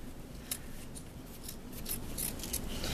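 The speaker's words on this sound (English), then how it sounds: "I can just trim that off just a little bit if I want to" Scissors trimming tote bag webbing, with a few crisp close snips over a soft steady background hiss and light handling rustle.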